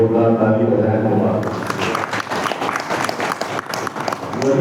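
An audience at a Ram Katha religious gathering claps, rising into dense, sustained applause after a voice speaks loudly at the start, the crowd's clapping filling the space at moderate distance.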